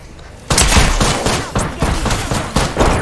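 Loud, rapid bursts of automatic gunfire fill a shooter video game match in its final circle, with repeated volleys in quick succession and no voices.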